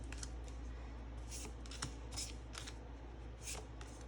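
Someone shuffles a large matte-cardstock tarot deck close by and quietly. Soft bursts of riffled card-flicking come in short clusters with pauses between them, against a faint low hum.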